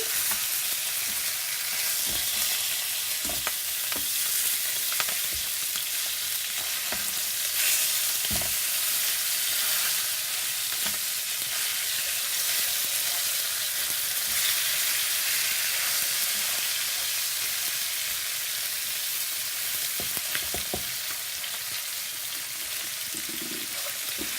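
Koi fish fry in a pan with a continuous loud, dense sizzle of oil and scattered sharp pops, plus a few soft scrapes as the pieces are turned, with no voices.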